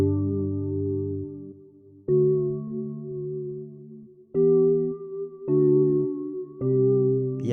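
A handful of simple sustained keyboard triad chords, about five, each held for a second or so with short gaps between changes, clean and unaccompanied.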